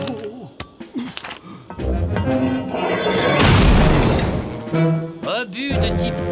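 A shell from the Lucky Luke cartoon strikes and explodes in a broad, noisy burst that swells and fades over a couple of seconds. Cartoon voices are heard before and after it.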